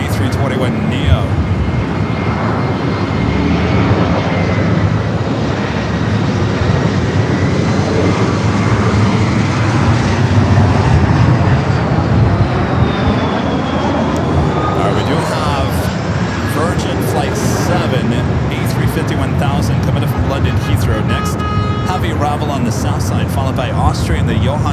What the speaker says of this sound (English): It's JetBlue flight heading to JFK, flight 224. It's an A321neo.